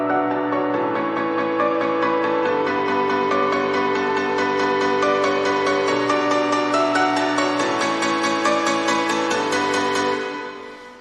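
A filtered piano plays a slow sequence of sustained chords, changing every couple of seconds, with sparkly, bright tone and light low end, alone and continuous before fading at the close.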